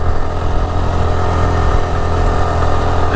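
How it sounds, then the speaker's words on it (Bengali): A motorcycle speeds past on a road beside Kaptai Lake near Rangamati, a steady loud engine drone close by throughout, rising slightly at the end, with no talk. "একটা বাইক ভাই সাই করে চলে গেল আমার পাশ দিয়ে"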